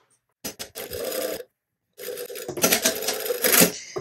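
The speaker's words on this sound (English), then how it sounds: "now we're going to sew along that fold from the bottom all the way up to the top here" A sewing machine stitching along the fold of a shirt placket, two close, busy bursts of rapid mechanical whirring separated by a brief pause, the second burst longer and louder.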